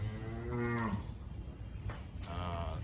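A Jersey dairy cow lows twice on a farm, a drawn-out moo followed by a shorter one after a pause, close and clear over steady background noise.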